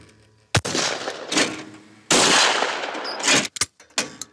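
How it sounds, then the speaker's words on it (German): Shotgun blasts at clay pigeons in a forest clearing ring out loud and close, with about five or six sharp reports at irregular intervals. Some shots come in quick pairs, and each decays into a brief echo. "Einfach auf die nächstbeste Lichtung fahren und Tontauben schießen."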